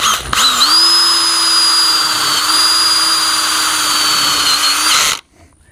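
A power drill drives a self-tapping Tek screw into greenhouse pipe, one continuous high whine for about five seconds that starts abruptly, holds a steady pitch, then cuts off into near silence.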